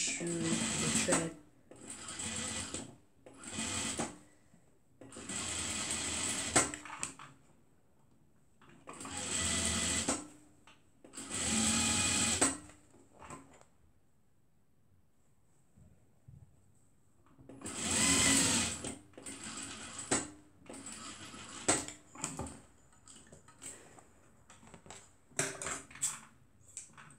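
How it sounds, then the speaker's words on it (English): A sewing machine stitching a cuddle scarf runs in repeated loud close bursts of rapid mechanical whirring, separated by short pauses and a longer quiet gap midway, with no voices. "always check your thread, if it is sewing well or you have an issue with the thread"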